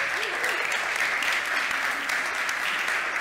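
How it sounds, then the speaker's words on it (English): An audience applauds the school of Matosinhos at a leadership conference, with a continuous, even wash of clapping throughout. "Some applause also to Scolae,"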